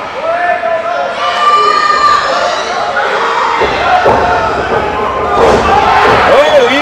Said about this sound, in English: He hit the turnbuckle.